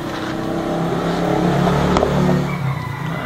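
An old, rusty racing motorcycle that had been left unused runs close by, its engine making a loud, steady droning hum whose pitch rises and falls slightly.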